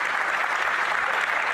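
Sustained applause fills a parliamentary chamber, a dense, steady wash of many hands clapping at even loudness throughout, with no clear voices above it.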